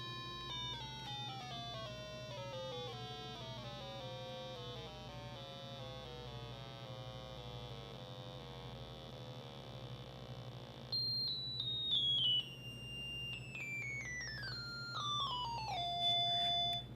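An Intelli IMT-301 tuner metronome sounds a sequence of clean electronic reference tones that step down in pitch one after another, then a second series starts higher and descends again, clear and alone over a faint hum.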